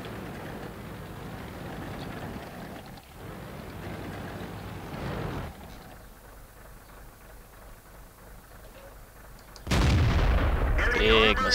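Tank cannon fire in World of Tanks: deep booming blasts and rumbling engine noise in a battle, with a loud heavy shot bursting near the end.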